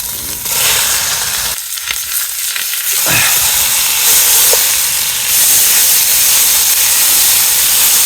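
Onions land in a hot Dutch oven over a campfire outdoors in wet December weather, setting off a loud, steady hiss and sizzle that runs unbroken throughout, close up, with a brief dip early on.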